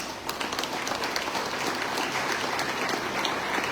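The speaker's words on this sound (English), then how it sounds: "let's give them a round of applause" An audience at a renovated school's inauguration in Benaulim, Goa, applauds for teachers: steady, dense clapping from a crowd that runs loud and unbroken throughout.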